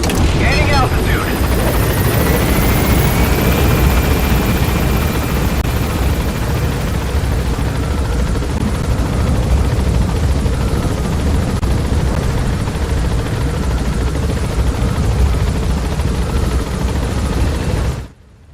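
A Metal Gear Solid V helicopter gains altitude with a loud, continuous rotor roar that stays dense and steady for about eighteen seconds, then cuts off abruptly at the end.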